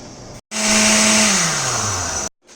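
An electric blender grinds tomato and cashew paste in one loud, steady whirring burst, its motor pitch sliding lower as the load builds before cutting off abruptly.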